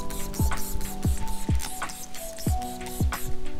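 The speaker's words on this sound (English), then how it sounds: "spray a small amount of your chemical in your area you're working" Cleaning chemical sprayed from a pump bottle onto the porous deck pad of a hard stand-up paddle board, repeated short spritzes about every half second, close and clear with no talk.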